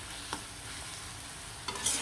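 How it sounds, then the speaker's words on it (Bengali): Radish greens frying in a pan with garlic and onion, a quiet continuous sizzle broken by a couple of brief stirring scrapes. "আর শাকটাও সুন্দরভাবে ভাজা ভাজা করে নেব।"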